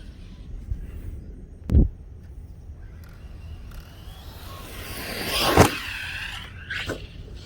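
Arrma Granite RC truck with an Outcast conversion, bigger wheels and a small brushless motor, driving outdoors: a low steady motor drone with sharp bursts of whine and scraping as it accelerates and bashes.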